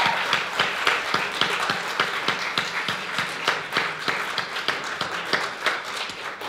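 Audience applauding the directors at a film festival awards ceremony in Wigan and Leigh, a steady round of dense clapping from a crowd that carries on without pause through the whole stretch.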